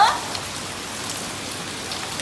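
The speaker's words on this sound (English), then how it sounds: "Pouring rain" Heavy rain pours down steadily on a street in Bạc Liêu, Vietnam, a dense continuous hiss of drops hitting surfaces nearby, with a brief sharp noise at the start.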